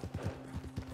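Horse hooves clip-clop in an online session of Red Dead Redemption, a quick run of soft rhythmic thuds from a trotting horse, close and fairly quiet.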